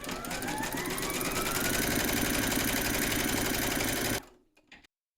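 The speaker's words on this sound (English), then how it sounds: "Pop your hoop into your machine and stitch round number 1, and that's going to give you a placement outline for your batting" An embroidery machine with gold bobbin and thread stitches the first round, a placement outline for batting on a collapsible bowl. Its fast, steady mechanical chatter runs loud and close for about four seconds, then stops abruptly, leaving a few faint clicks.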